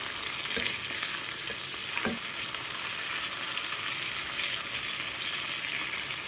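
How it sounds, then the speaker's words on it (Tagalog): Tomatoes being crushed and sautéed in a frying pan give a steady close sizzle, with stirring and scraping throughout and one sharp tap near the start. "Need natin durugin yung kamatis para sa maluto."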